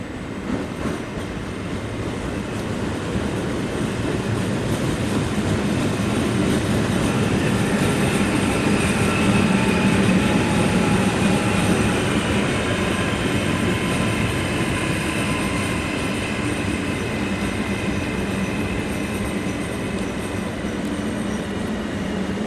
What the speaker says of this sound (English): So here comes one of Trenitalia's regional Veneto trains.